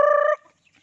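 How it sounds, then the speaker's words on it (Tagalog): A native chicken lets out a single short, loud, tonal call while being fed azolla, then goes quiet, with only faint rustling after it. "We are feeding our chicken."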